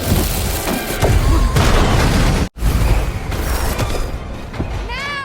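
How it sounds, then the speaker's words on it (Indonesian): In a scene from the film Madame Web, firecrackers go off in loud, dense booms and crackling pops. They come in two sustained volleys split by a brief silence, with whooshing effects toward the end. "Petasan demi petasan pun diledakkan oleh Ezekiel"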